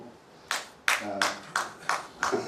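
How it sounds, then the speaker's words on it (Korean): Clapping at a Buddhist monk's monthly dharma talk: six sharp, distinct claps in a steady rhythm, each ringing briefly, close and fairly loud. "박수 치지 마세요."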